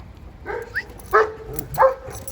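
Anatolian shepherd dog (Kangal) giving several short, close barks and yips spaced about half a second apart, loud and clear over quiet outdoor background.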